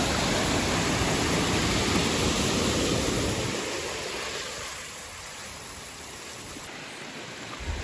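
Rushing water from creeks and a waterfall on a chilly hike in Glacier National Park, a steady broadband wash, loud at first, then easing to a softer, more distant flow after a few seconds.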